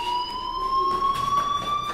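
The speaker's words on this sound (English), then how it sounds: "Hey, do you hear that fire alarm?" A school fire alarm in the Life is Strange video game rings as a steady, loud, continuous electronic tone with bright overtones, nearby and unbroken, with faint rustling underneath.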